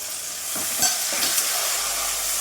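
Tomatoes drop into a hot frying pan with a sudden loud sizzle that settles into a steady close hiss, with a few soft thumps and stirring scrapes.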